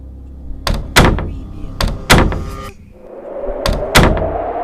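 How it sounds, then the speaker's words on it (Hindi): A window bursting open at night in a horror tale, heard as several loud wooden bangs and thuds in two clusters, close and sharp, with a low hollow rumble between them and no talk. "खिड़की जोर से खुल गई।"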